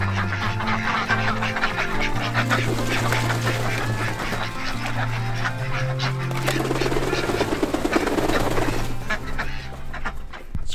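Ducks in their snowy farm run quack repeatedly, close and fairly loud, in a busy overlapping chorus alongside a low steady hum.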